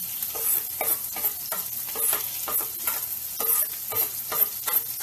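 Onions sizzle in a hot pan while a utensil stirs them, giving a steady close crackle broken by regular scraping strokes about twice a second, with no voices.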